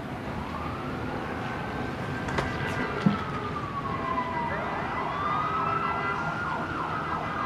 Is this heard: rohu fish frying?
no